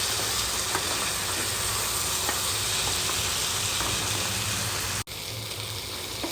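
Crab pieces fried with spices in a pan, giving a steady close sizzle and hiss throughout, with faint stirring ticks and a brief dropout near the end.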